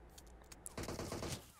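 Gunfire is traded in the mobile battle royale game PUBG Mobile. A couple of light shots come first, then a dense burst of rapid fire crackles for the final second, loud and with no voices.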